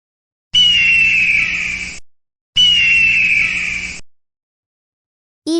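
An eagle gives two long, piercing screeches, each fading out over about a second and a half, with a pause between them and a brief voice at the very end.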